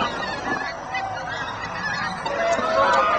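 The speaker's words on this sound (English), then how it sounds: "the first of the many thousands of pink-footed geese which visit the reserve in winter" Many pink-footed geese honking together at the Martin Mere wetland reserve in winter, a dense, continuous clamor from a large flock calling steadily, with a few louder honks rising near the end.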